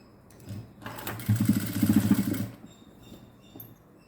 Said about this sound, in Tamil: மடக்கி ஒரு தையல் போட போகிறேன்